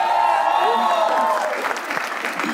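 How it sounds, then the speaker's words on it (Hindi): A studio audience at a comedy game show claps steadily in dense, sustained applause, close and loud, with a voice speaking over it. "तो शुरू करते हैं तालियों के साथ।"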